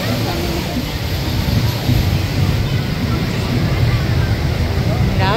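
Ocean waves at El Tunco beach in La Libertad, a loud, continuous rumbling wash of surf mixed with wind buffeting the microphone, with voices talking over it.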